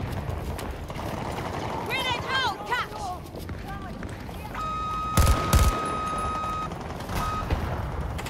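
Missiles and gunfire rumble through a chaotic Battlefield 2042 video game fight, with a steady electronic tone and heavy bursts midway, all under excited voices.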